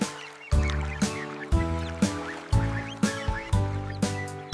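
Cartoonish duck quacks from a children's nursery song about five little ducks, about nine in a steady, evenly spaced rhythm, close and clear over a tonal musical backing.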